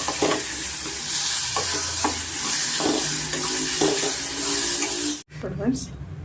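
Onions frying with turmeric and salt in a pan for aloo saagu, a steady loud sizzle with repeated stirring scrapes, cut off sharply near the end before a quieter resumption.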